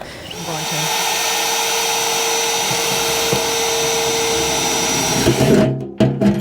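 A power drill whines steadily and loudly for several seconds boring drainage holes in a plant pot, then stops with a few short bursts and clunks at the end.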